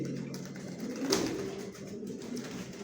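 Pigeons cooing softly and steadily inside a newly built stock loft within a bedding loft, a low continuous murmur of several birds with one slightly louder coo partway through.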